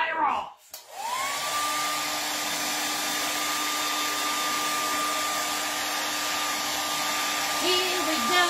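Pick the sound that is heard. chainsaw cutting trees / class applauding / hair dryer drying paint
hair dryer drying paint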